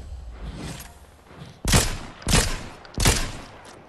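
Gunfire in a video game: quieter muffled shots at first, then three loud sharp bursts spaced about half a second apart, each ending in a short rumbling tail.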